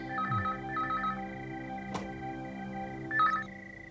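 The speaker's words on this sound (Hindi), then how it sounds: "फोन बज रहा है।" A telephone rings in repeated warbling bursts, pausing between rings, with a steady low hum underneath and a brief sharp click midway.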